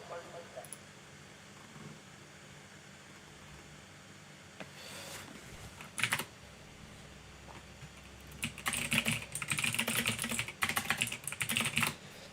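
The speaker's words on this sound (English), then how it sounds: "I apologize for my loud keyboard." A loud computer keyboard clatters in bursts of fast typing, sparse at first and then heavier and sustained, while a voice talks at a low level underneath.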